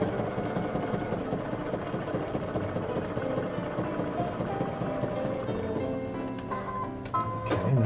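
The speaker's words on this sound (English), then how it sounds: "And now I'm going to top stitch this," A Baby Lock Ellisimo sewing machine top stitches leather at a long stitch length. It gives a steady, fast mechanical patter close by throughout, and a few clicks and taps come near the end.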